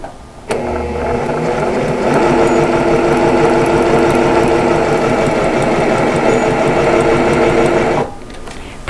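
A Baby Lock Accomplish sewing machine runs a straight stitch, its fast, even mechanical whir starting abruptly, holding steady and loud for several seconds, then stopping.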